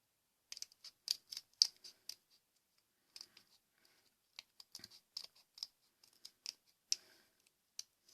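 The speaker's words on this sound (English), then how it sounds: "with a scissor. Cut your ghost." Scissors snip through paper while cutting out a paper ghost for a Halloween garland. Short, crisp cuts come in quick clusters with brief pauses, close and quiet, with no talking.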